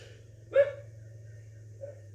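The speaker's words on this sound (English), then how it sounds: "And my dog is barking." A single sharp dog bark from outside through an open window, heard once near the middle, with a faint second yip later over a steady low hum.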